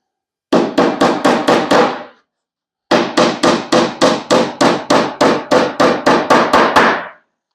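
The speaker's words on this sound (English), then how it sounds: "It is a ball peen hammer" A ball peen hammer striking an antique wooden dresser drawer, two runs of sharp, evenly spaced knocks: a burst of six quick blows, a pause, then about fourteen more in a steady rhythm, close and loud.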